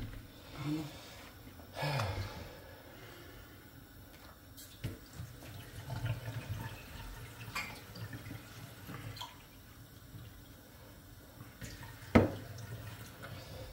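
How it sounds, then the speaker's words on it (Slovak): Water runs from a kitchen tap into a sink, a faint, intermittent splashing with a sharper knock near the end and no speech. "Pustila si vodu, bude treba to liať."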